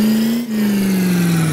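A state trooper police car engine hums loudly and close, with a brief dip before the pitch rises slightly and then slowly sags, a single sustained rev with no talking.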